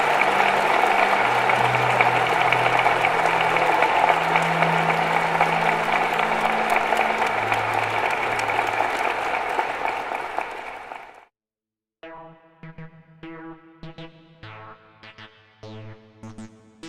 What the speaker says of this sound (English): that brings this session to a close, so let's have a round of applause for General Alexander.